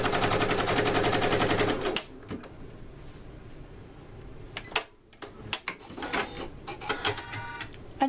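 A longarm quilting machine stitches fabric in a rapid, steady mechanical chatter for about two seconds, then stops, leaving scattered clicks and handling noises.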